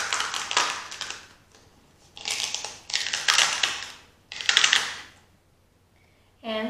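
A cut stencil sheet peeled off a Silhouette Cameo cutting mat, several separate bursts of crackling, tearing adhesive release with quiet gaps between, followed by a short different noise at the end.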